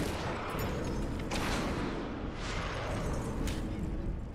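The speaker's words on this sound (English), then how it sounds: "Where are them grenades coming from?" Grenade blasts and rattling gunfire from a BioShock-style video game featuring a Big Daddy, a dense continuous barrage of booms with several sharper bursts standing out, loud and close throughout.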